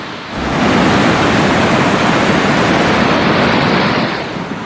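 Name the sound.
rushing Lakshman river water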